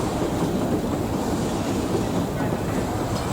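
Train rolling into Melbourne, a steady broad rumble of rail cars with a faint clickety-clack, constant and fairly close throughout, with faint voices beneath.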